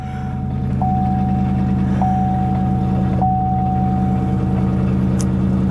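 A GMC pickup truck engine with fuel pump trouble idles steadily and low throughout, with a repeating high-pitched electronic beep tone sounding in the background.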